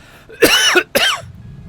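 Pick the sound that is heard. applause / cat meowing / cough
cough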